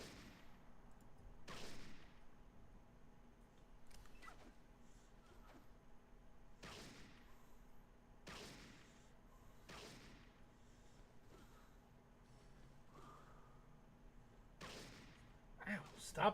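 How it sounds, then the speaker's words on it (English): Gunfire in the Fallout 2 video game: sharp shots spaced every couple of seconds over a low, quiet background, with faint speech in places. "Stop shooting me."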